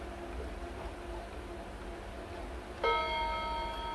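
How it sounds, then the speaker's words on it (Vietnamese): An antique Japanese wall clock strikes a single resonant chime for the half hour, ringing out and decaying slowly over a faint steady background hum. "Ba mươi phút thì điểm một chuông thôi."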